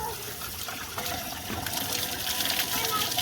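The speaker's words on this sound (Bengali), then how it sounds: "জলটা বন্ধ করো, পড়ে যাচ্ছে।" Running water pours steadily during shampooing on a rooftop, a continuous close splashing gush that swells slightly, with no clear talk over it.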